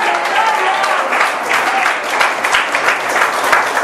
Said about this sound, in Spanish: Vamos a dar un aplauso fuerte, hermano.